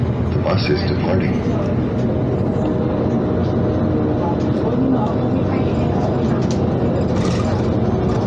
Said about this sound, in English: The bus is departing.